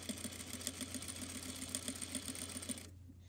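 A sewing machine edge stitching fabric runs at a steady, rapid, rhythmic whir close by, then stops abruptly near the end.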